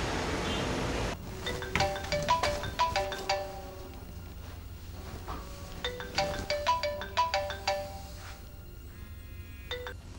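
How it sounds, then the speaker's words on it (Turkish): Phone ringing on an unanswered call, a melodic ringtone of bright repeated chime notes in two clusters after a burst of noise, with a fainter tone sequence at the end; no voices. "Hadi Aykut aç şu telefonu."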